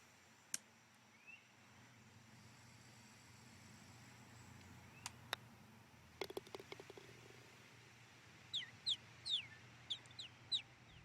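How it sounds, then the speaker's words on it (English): Ambient birdsong from a golf video game: a run of short, bright chirps near the end, with a few sharp clicks earlier over a steady low background hum. "Listen to those birds. Great sound effects."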